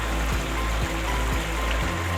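Water flowing into the inlet well channel at a water treatment plant, a loud continuous rushing with a low machinery hum and rhythmic low thuds.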